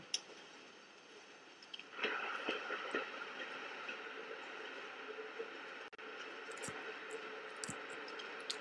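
Train riding along in The Walking Dead video game: a steady mechanical rumble and rattle of rail cars with scattered clicks and ticks, continuous and fairly quiet throughout.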